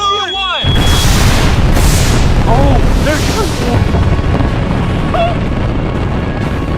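A record-size 4,000-pound firework bursts in one huge deep boom that rolls on as a long loud rumble, followed by crackling and distant whistling, with excited voices shouting over it.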